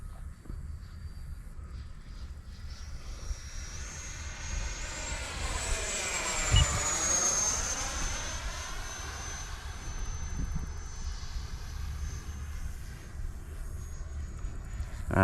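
A Freewing F-4 Phantom 8S RC model jet flying by, its ducted-fan whine rising in pitch as it approaches, peaking overhead, then dropping away into a distant hum over breezy background.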